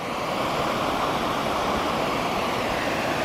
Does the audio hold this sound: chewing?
no